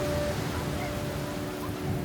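Steady rain falls in Seem village, a mountain setting, as an even, continuous hiss that stays at one level with no voices.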